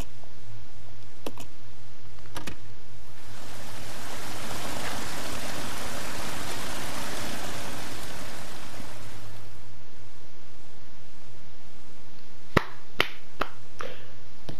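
Water rushes in as a broad, steady roar in Resident Evil Zero, swelling for several seconds and then cutting off, framed by sparse clicks and a few sharp taps.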